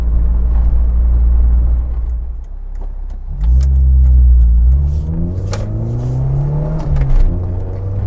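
A Rover Metro's K-Series engine, heard from inside the small hatchback on the road, revs up loudly through the gears, its pitch climbing and dropping with each shift, with no talking.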